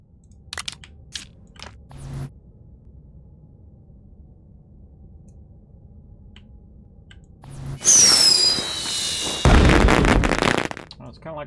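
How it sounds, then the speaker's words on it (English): Firework launched in the video game Astroneer: a sudden loud whooshing burst with a falling whistle, followed by a second heavy crackling blast, after quiet stretches with a few small clicks. "I'm going to shoot this firework off because I don't need it"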